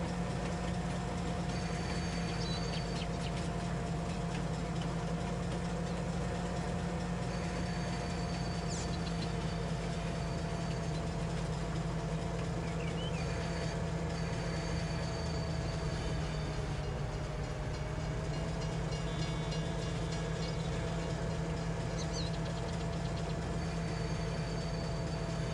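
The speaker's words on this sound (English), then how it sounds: "You can hear the wheels grinding, screeching." Railcar wheels in Farming Simulator 19 give a steady, loud metallic grinding drone with a constant rumbling hum, continuous and close throughout with no speech.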